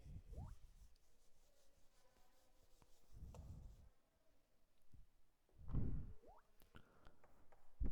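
A teacher rubs writing off a classroom board during a third-grade science lesson, producing a few soft, scrubbing swipes in separate bursts, moderately close, with no talking.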